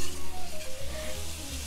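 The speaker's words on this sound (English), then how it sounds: "I'm just letting this cook down until it starts sizzling" Steady hiss and crackle of lamb loin chops sizzling in a hot pan, close and continuous, with a low hum underneath.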